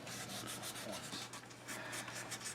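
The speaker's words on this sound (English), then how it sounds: "I get a little bit of filling in the pores of the sandpaper." Sandpaper rubbed by hand over a wooden school desk, a steady close scratchy rasp that runs without a break, the strokes faintly pulsing as the paper moves back and forth.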